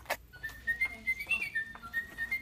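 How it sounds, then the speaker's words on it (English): A singing toy bird gives off a string of bright, warbling whistles in short chirping phrases, close and fairly loud, over a quiet background. "And then there's some of these singing birds."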